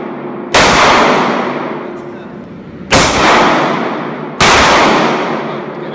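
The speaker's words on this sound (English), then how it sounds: "Two shots." Gunshots ring out at a tactical firearms training range: three loud, sharp reports, each trailing a long echoing decay, spaced a couple of seconds apart.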